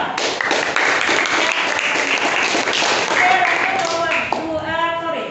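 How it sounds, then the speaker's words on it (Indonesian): A classroom audience claps for group 2, with steady scattered applause filling the room and voices talking over it toward the end. "Berikan aplaus ke kelompok 2"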